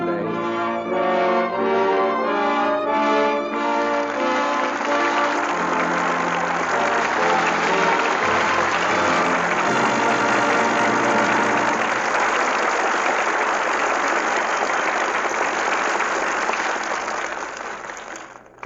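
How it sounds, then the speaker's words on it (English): A studio audience at the end of a Lux Radio Theatre radio play breaks into sustained applause as closing music gives way, a dense wash of clapping lasting many seconds before fading out. "With that well-deserved applause"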